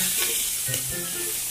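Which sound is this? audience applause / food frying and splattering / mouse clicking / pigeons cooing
food frying and splattering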